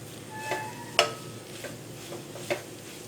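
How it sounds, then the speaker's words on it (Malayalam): Beef fried with little oil in a pan for a Kerala-style beef fry is stirred now and then, giving a soft background sizzle broken by a few sharp clicks and scrapes of the spatula against the pan. "ഇനി നമുക്ക് ഈ രീതിയിൽ ഇടയ്ക്കൊന്ന് ഇളക്കി കൊടുത്ത് ഒരു 10 മിനിറ്റ് ഒന്ന് ഫ്രൈ ചെയ്യണം"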